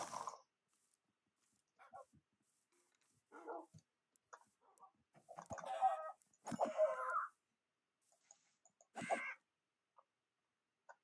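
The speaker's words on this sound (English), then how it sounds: "Will the crow hurt me?" A crow caws in a medieval village video game, giving several short, harsh calls scattered across near silence, some in quick bursts and others spaced seconds apart.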